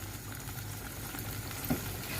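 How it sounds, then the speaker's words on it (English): Spices sizzle steadily in a hot pan while frejon sauce is being made, a soft, even hiss that stays faint and continuous with a small stir-like bump partway through. "And then put in your spices. Okay, and once those, right, so that has started to sizzle."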